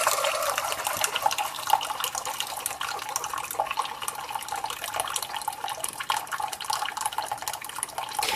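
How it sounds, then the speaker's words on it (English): Keurig B60 Special Edition single-serve coffeemaker pushing hot water through during brewing, a continuous bright hissing, trickling rush with slight crackle, steady and close throughout. "So you can hear it kind of pressing the water through."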